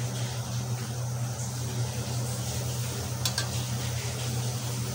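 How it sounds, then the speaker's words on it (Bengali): Potatoes with pui shak stalks stirred and sautéed with spices in a pan, a steady low sizzle running throughout with faint scraping of the spoon and one brief clink near the end. "ভালোভাবে নাড়াচাড়া করে মশলার সাথে মিশিয়ে নেব।"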